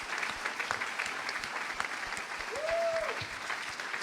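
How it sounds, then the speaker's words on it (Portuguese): A church congregation at a youth gathering claps in a steady, dense wash of applause at moderate volume, with a brief tonal whistle-like tone rising and falling about midway. "Mais uma vez as palmas louvam o nome soberano do Senhor Jesus."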